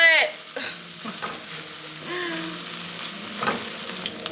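An omelet fries in a pan with a close, steady sizzle, broken by a few soft scrapes and clicks from a utensil moving the eggs.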